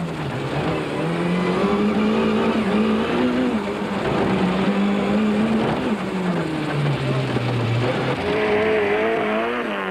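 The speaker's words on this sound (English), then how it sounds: "More race cam action from the Kutsia Leek Toyota illustrates that off-road racing is no Sunday drive through the park." In-car sound from a Toyota off-road race car competing in the Caledon 500 race, with a loud continuous engine drone rising and falling as the driver works through the gears over rough terrain.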